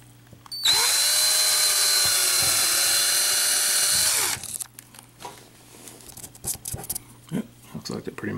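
A power drill bores a hole through a plastic panel during a trailer hitch installation on a 2014 Ford Flex. The high, steady whine runs loudly for about four seconds before stopping, followed by quieter handling noises.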